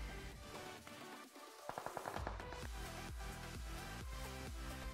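Rifle fire from SKS and K98 guns in the mobile game PUBG Mobile: a rapid burst of sharp shots, then a steady run of evenly spaced loud reports over game sound.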